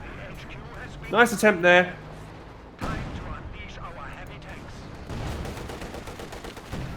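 Artillery fire in a World War II tank video game, with distant booms and rumbling impacts, heard under a commentator's talk and a short synthetic tone.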